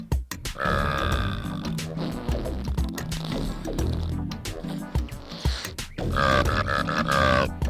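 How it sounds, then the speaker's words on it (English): Burping sound effects from the Shrek video game on the original Xbox: several long, loud, gurgling belches, one near the start and a big drawn-out pair toward the end, with game noises in between and no talk. "The final lesson is farting and burping."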